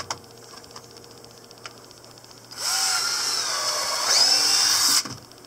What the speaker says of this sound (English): so you just drill them at an angle from the bottom